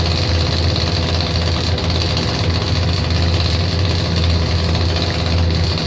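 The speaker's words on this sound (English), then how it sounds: "John Deere, tractor, modified machine." A modified John Deere tractor engine idles and rumbles steadily and loudly at a drag strip during points-event finals, a continuous deep, unbroken drone with no talk over it.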